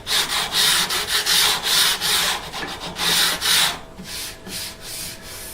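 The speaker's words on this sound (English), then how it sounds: "the rest of this is sanding" Wood on a custom electric guitar neck is sanded by hand in steady back-and-forth strokes, close by, with the rhythm quickening and softening toward the end.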